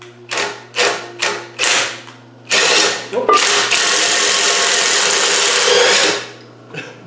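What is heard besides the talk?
engine being turned over on a Spanish 110 restoration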